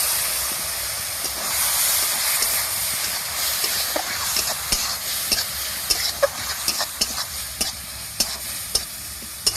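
A spice mix frying in a pan sizzles and hisses steadily after a little water is added for egg chops, with sharp stirring taps and scrapes growing more frequent toward the end.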